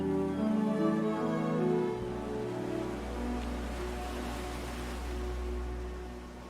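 Ocean waves roll in a steady, soft wash of surf, a low continuous rumble with gentle swells, heard alone without any voices.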